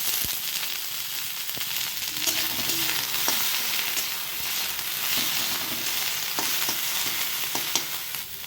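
Broccoli and capsicum fry in hot oil in a pan, giving a steady, dense sizzle with occasional crackles and stirring clicks close by.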